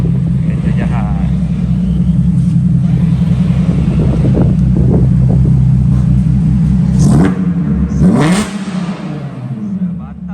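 Volkswagen Golf R32 exhaust gives a loud, continuous low rumble heard up close, rising in a couple of revving surges near the end, with wind buffeting the microphone.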